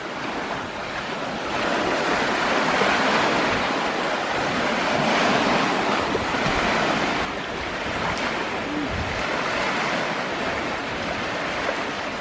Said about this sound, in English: The noise that you hear is the waves breaking at my feet on the picnic area here at Falls Bay Park.